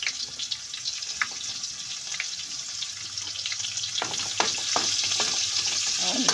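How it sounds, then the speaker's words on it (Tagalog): Chopped onion dropped into a hot pan for a black bean dish and frying, a steady close sizzle that grows louder and busier partway through, with scraping stirs and no talk. "So ngayon ilagay na natin yung sibuyas."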